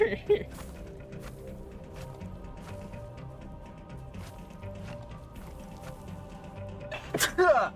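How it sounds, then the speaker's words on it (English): Near the end, a single sharp sneeze bursts out close to the microphone, loud against quiet background sounds from a Dune survival video game. "I sneezed. Sorry."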